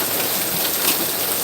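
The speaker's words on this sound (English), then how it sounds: "I just love to listen to the raindrops." Steady rain falls in the countryside, a dense, even hiss of raindrops pattering on surfaces, close and continuous with no voices.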